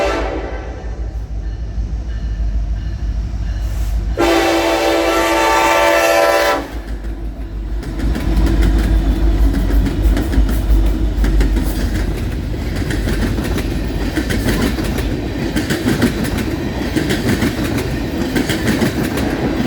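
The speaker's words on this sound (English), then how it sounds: "catch this train heading back west" A loud freight train rumbles past with a blaring horn blast early on, followed by steady clattering of rail cars rolling by close up.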